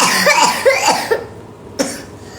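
A child coughs in a run of several rough, close coughs in quick succession, a short pause, then one more sharp cough.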